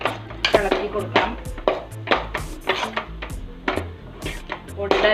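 Rice flour being stirred into boiling water in a pan for Malayali poovada, a run of repeated scraping and knocking strokes of a spoon against the pan, close and fairly loud, with no talk.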